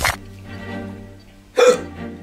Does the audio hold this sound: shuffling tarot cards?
no